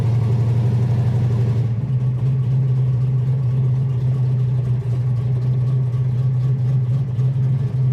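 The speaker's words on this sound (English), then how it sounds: "Just listen to that idle." A 600hp 1973 Dodge Challenger idles with a loud, steady low rumble that stays constant and even throughout, close by with no one talking.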